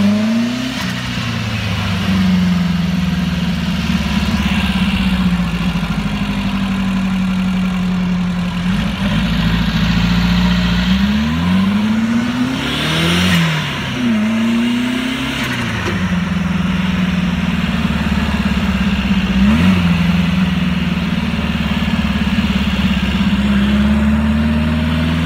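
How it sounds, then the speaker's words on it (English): Turbocharged air-cooled VW engine idling steadily up close, with a few sharp revs blipping the pitch up and back down, loud and continuous with no talking. "You can definitely feel the turbo kick on."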